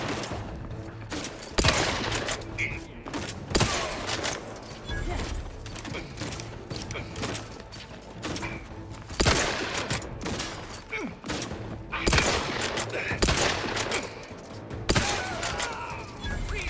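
Rapid bursts of gunfire from a weapon in The Outer Worlds 2, with sharp shots clustered in irregular volleys over a steady game backdrop, with some mechanical clatter between bursts.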